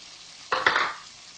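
Grated tomatoes frying in a pan, with a short burst of sizzling and spoon scraping that rises suddenly and fades within about half a second, fairly quiet.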